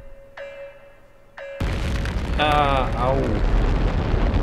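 A rocket blows up in Mars First Logistics with a sudden loud burst, then a sustained rumbling roar that keeps going under a voice, after a few soft tonal game beeps.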